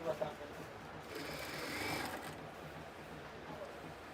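A sewing machine stitches a kameez seam with a soft, muted run of whirring that swells briefly in the middle, quiet and close, while a voice speaks at points.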